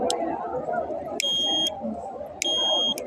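Heat-activated fire alarm built as a school project gives two sharp, loud electronic beeps spaced about a second apart over murmuring background chatter.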